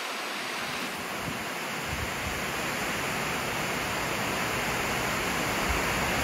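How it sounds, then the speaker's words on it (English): Steady, dense rain pours down during a hurricane, a loud, continuous hiss with wind mixed in and no voices. "It's starting to rain again."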